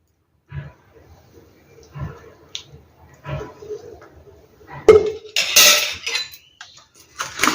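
Ivy gourd pickle being stirred together with oil and chilli powder, with a few soft scrapes and clinks of a spoon against a bowl, then a louder burst of mixing and scraping near the end.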